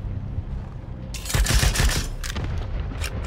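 A spider robot fires a heavy gun in the post-apocalyptic game Wasteland 3, a loud rapid burst of gunfire breaking out after a quieter stretch and continuing in clustered shots with no talking.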